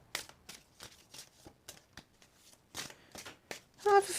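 Oversized tarot cards are shuffled by hand in a quiet room, giving a series of crisp papery riffles and slaps that come in irregular bursts, close and fairly soft.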